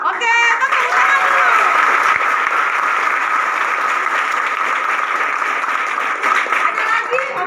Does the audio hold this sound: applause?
yes